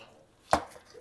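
A garlic press crushes an organic Québec garlic clove with one sharp, close crunch in an otherwise quiet kitchen.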